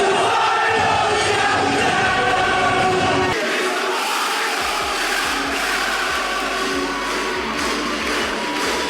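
A wrestling arena crowd sings along to the chorus of a song as an entrance theme, a loud massed chant of many voices sustained throughout with a brief shift partway through.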